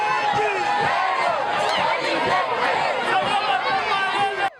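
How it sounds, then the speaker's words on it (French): A dense crowd filling Bulungu boulevard to welcome a politician, a loud steady babble of many voices with shouts and cheers close by. "une populace qui a inondé le boulevard Bulungu pour lui témoigner son soutien"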